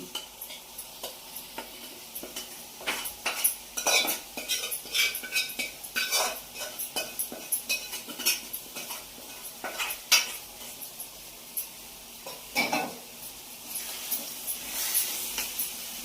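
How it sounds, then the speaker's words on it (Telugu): A spoon scrapes and clinks in a pan as prawns are stirred into a simmering tomato curry, with soft sizzling underneath; the stirring is close, irregular and moderately loud. "సో ఇలా రొయ్యలు వేసేసుకొని మంచిగా కలిపేసుకోవడమే"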